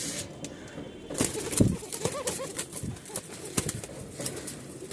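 Bashiraj cocker pigeons coo softly in a loft, several short calls mixed with wing flutters and brief thumps, with faint voices in the background.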